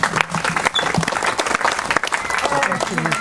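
A crowd at a 4th of July Citizen of the Year ceremony applauds for Sean Tate, steady clapping filling the whole stretch with voices speaking over it.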